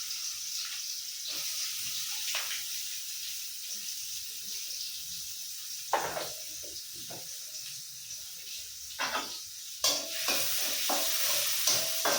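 Eggs fry in oil in a pan, giving a soft continuous sizzle with occasional stirring scrapes and spatula knocks, fairly faint and close.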